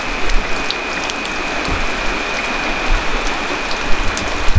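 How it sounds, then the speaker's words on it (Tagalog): Steady rain falls continuously during a nighttime outdoor search in the rain, a dense even patter of drops close by with no voices over it. "umuulan."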